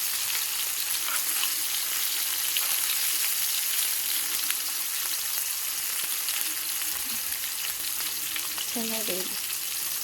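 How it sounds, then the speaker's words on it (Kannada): Small onions frying in a pan for a village-style fish sambar, giving a steady close hiss of sizzling oil with occasional stirring, and a brief spoken word near the end. "ಸಣ್ಣ ಈರುಳ್ಳಿ ಬೇಯಿಸ್ಕೊಳ್ಳೋಣ ಇದನ್ನು."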